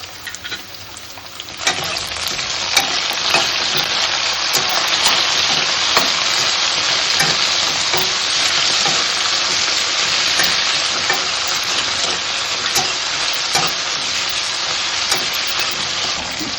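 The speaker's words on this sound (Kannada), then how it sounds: "ಇವಾಗ ಟೊಮೊಟೊ ಹಾಕ್ಕೊಳ್ತೀನಿ. ಈರುಳ್ಳಿ ರೋಸ್ಟ್ ಆಗಿದೆ." Roasted onions and freshly added tomatoes frying in a pan for a pumpkin palya, with a dense continuous sizzle that jumps louder after a brief quieter opening, broken by repeated stirring clicks.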